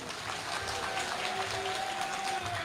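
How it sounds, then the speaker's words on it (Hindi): A large crowd at a farmers' rally claps steadily and continuously, a dense wash of applause with no pauses, heard from within the audience. "यदि तैयार हैं तो जरा ताली बजा करके हाँ कहिए"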